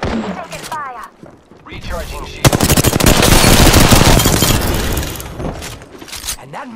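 Rapid automatic gunfire from a squad-based first-person shooter video game, a loud sustained burst of dense shots rising after a few scattered rounds, with brief voice chatter over the shooting.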